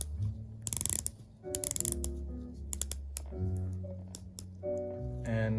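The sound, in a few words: Oris Aquis watch bezel ratcheting as it turns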